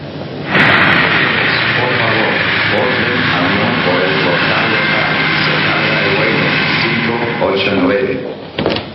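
Airliner engines roaring at departure, a loud, steady broadband roar that swells in abruptly and holds, with voices faintly mixed beneath.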